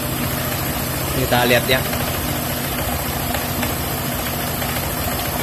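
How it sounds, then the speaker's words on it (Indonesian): A Honda PCX 150 2019 scooter engine runs at a steady high drone during a top-speed test with no air filter fitted, a continuous buzzing hum under someone speaking briefly. "coba kita geber top speednya sampai berapa sih"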